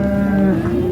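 An 11-month-old calf at a livestock market gives one loud, close, drawn-out moo with a steady tone that shifts pitch partway through.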